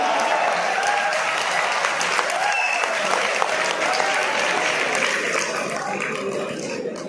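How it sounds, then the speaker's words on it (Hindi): Sustained, dense audience applause at a humorous solo poetry recital held at the National Power Training Institute in Faridabad, steady and loud for about seven seconds with no speech over it. "ठोको ताली"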